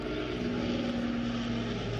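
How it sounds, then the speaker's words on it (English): World War II Lancaster bomber flying over Paxton Pits, its piston engines and propellers droning in a steady, loud, continuous roar with a throbbing low hum that holds throughout, no talking. "World War II bomber, the Lancaster."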